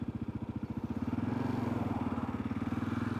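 A 2022 Kawasaki KLR650 Adventure fitted with a 16-tooth front sprocket, being ridden, gives a steady rhythmic engine thump of even low pulses held at a constant pace, moderately quiet and with no voices.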